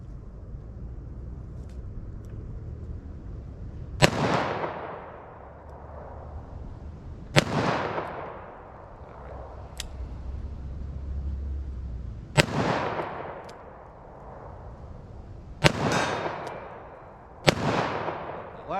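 Loud 9mm handgun shots using Apex defensive ammunition, five sharp cracks spaced a few seconds apart, each with a long ringing decay, fired one at a time outdoors with no talking.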